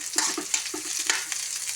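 Shrimp sauté in a pan with browned garlic for a green bean and squash dish. A brisk, close sizzle carries quick stirring clatters in a short burst.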